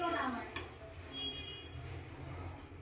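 A spoon stirs dal with coriander leaves in a metal cooking pot, giving scattered clinks and scrapes. Quiet household sounds and faint voices are heard in the background.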